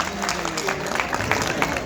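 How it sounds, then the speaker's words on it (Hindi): An audience applauds at a comedy stage show during a literary festival, with dense, steady clapping that fills the whole stretch at moderate loudness. "आप लोगों के लिए जोरदार तालियां।"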